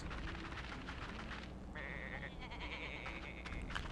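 Sheep bleating in the video game Tak and the Power of Juju, a few nasal bleats over a busy game soundscape, with no speech.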